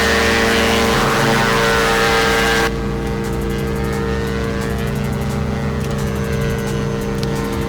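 A twin-engine aircraft in the X-Plane 11 simulator, a loud continuous propeller drone with a steady buzzing hum that drops in intensity partway through and then holds at a lower, even level.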